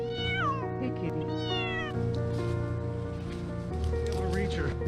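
A cat stuck high in a ten-meter tree meows repeatedly in rising, wavering cries, clear and fairly close, while a person speaks over and between the calls.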